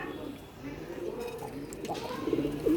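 A pigeon coos softly among a pigeon collection, low repeated coos rising toward the end, faint and close over light background noise.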